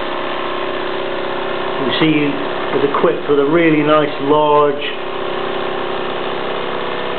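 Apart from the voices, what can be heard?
Wilesco toy steam engine running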